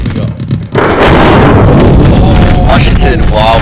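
A loud, continuous wall of explosions erupts in a video game after a short quiet moment and keeps roaring to the end. A voice talks over it briefly.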